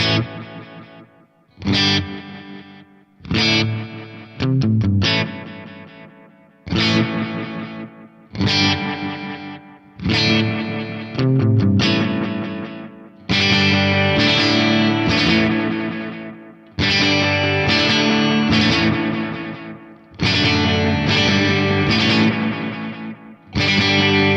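Distorted guitar chords ring out through layered repeating echoes from a Line 6 DL4 multi-head delay, the delays stacking into a dense, washing tail that swells and thickens between strums.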